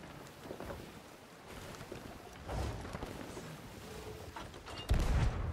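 Ocean waves slosh and crash against a wooden ship in the pirate game Sea of Thieves, a steady rushing wash with wind noise and a heavier surge near the end.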